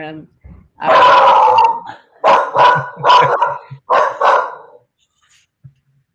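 A dog barks and grunts in a few close, loud bursts with short pauses between them, then falls quiet.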